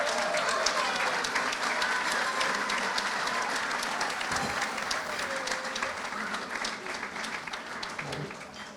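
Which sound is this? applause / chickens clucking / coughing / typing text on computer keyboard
applause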